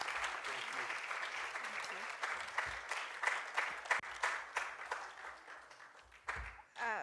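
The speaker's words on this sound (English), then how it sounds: "Can we please be upstanding and invite and clap for Professor Kieti?" An audience at a university innovation week and industry summit claps for an arriving speaker, faint, uneven hand clapping with voices and room noise mixed in.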